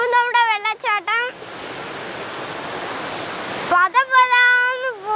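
Kattara waterfall near Puthukkulangara roars as a loud, dense rush of falling water beneath a bridge, bracketed by a voice speaking before and after the burst of noise.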